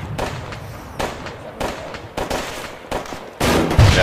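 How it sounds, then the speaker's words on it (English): Grenade and gunfire in the ArmA 3 video game, a series of sharp bursts at irregular intervals followed by a heavier, sustained blast near the end. "Popping grenade."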